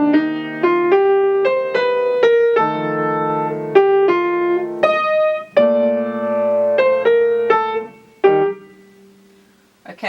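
Solo piano plays a slow jazz line, built on guide tones: a rising and falling run of single notes over sustained bass, ending with a final chord that fades away; close, clear and without speech.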